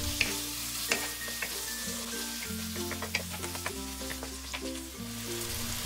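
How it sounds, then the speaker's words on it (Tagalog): Ground pork sizzles steadily in a pan for sweet Filipino-style spaghetti while a utensil stirs it with repeated scraping clicks, close and moderately loud, and a low hum runs beneath. "Haluin lang natin to para pantay-pantay itong maluto ng ilang minuto hanggang mag-light brown na ang kulay."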